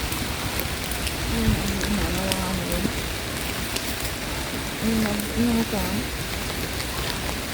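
Steady rain pours down in a continuous broadband hiss, with scattered drops spattering nearby and brief bits of voices underneath.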